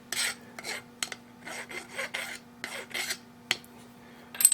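A small metal lathe part being deburred by hand with a file, giving a series of short, close rasping strokes in an irregular rhythm over a faint steady hum, with no talking.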